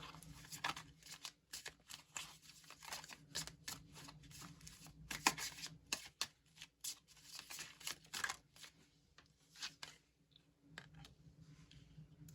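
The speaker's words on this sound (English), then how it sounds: "I'm gonna pull some more cards." Tarot cards are shuffled and pulled from the deck during a reading, making soft, faint riffling, flicking and tapping sounds in irregular bursts, close by, with no talking.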